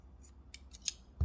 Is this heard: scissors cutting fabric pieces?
yes